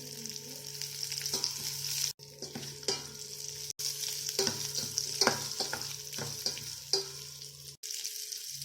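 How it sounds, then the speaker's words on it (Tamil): Onions and dried chillies fry in a pan with salt while a spoon stirs them, giving a close, continuous sizzle broken by scraping strokes and brief pauses, with no voices. "தேவையான அளவு உப்பு போட்டுட்டு நல்லா வந்து இதை கிளறி விட்டுக்கலாம்."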